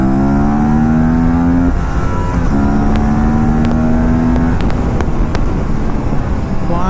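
An Aprilia RS 457 motorcycle with race brake pads rides at speed under loud, steady wind roar as the engine note drops and shifts during braking, with faint clicks on top.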